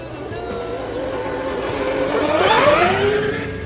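A small RC truck motor in low gear whines and revs steadily, rising in pitch and loudness toward the middle before easing off, with a continuous buzzing drone throughout.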